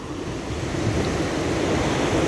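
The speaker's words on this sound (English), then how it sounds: "What I mean by wash is it's when the waves settle down and then they basically flow through" Ocean waves wash up a beach in a steady, continuous surf roar with a faint wind rumble, loud and close throughout, with no voices.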